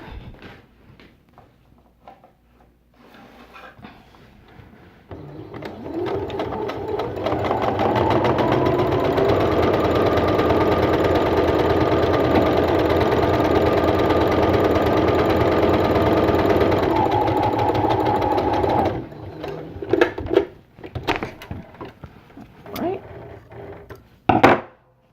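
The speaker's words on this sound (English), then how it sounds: "So now you're going to sew 1/2 inch seam allowance." Sewing machine stitching a half-inch seam on scarf fabric, a close, even mechanical whir that runs steadily for about fourteen seconds, framed by brief handling knocks before and after.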